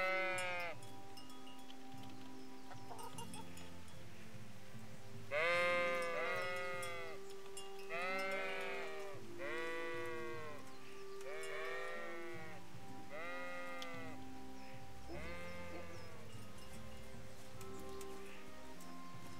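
Video game sheep bleat repeatedly in a steady series of calls over a soft background hum, fairly close and clear.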